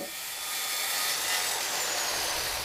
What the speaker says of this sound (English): I'm using a panel cutter